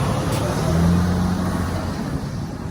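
Loud road traffic rumbles near a parked truck, a steady low engine drone with a brief tonal hum, fairly close and continuous.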